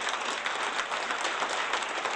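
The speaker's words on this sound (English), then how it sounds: "So please clap for him so that he'll give that 1 prize to you." Audience clapping at a talk or prize event, a dense, even wash of many hands applauding together, moderately loud and sustained throughout.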